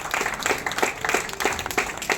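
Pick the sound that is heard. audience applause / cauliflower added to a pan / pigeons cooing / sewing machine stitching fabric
audience applause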